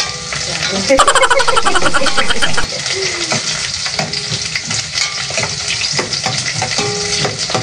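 Sardines sauté in a hot pan with onions for miswa soup, a loud, continuous sizzle broken by scraping stirs and clanks, while someone talks over the cooking.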